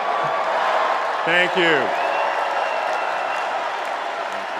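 Crowd at the Democratic National Convention cheering and applauding in a steady roaring wash, while a speaker briefly talks over it.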